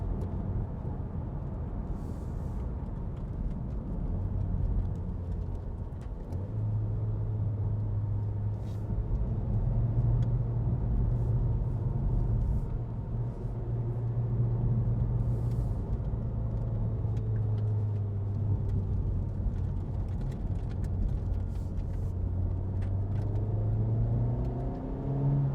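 Honda Civic Type R GT with a 2.0 i-VTEC engine under way on a country road, a low steady engine drone with tyre and road rumble and gentle rises in pitch.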